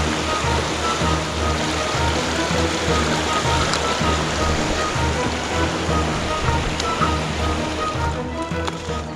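Creek at a hiking trail crossing on the SW slopes of Mt. Belford, rushing water heard close and steady as a dense, continuous wash with no pauses.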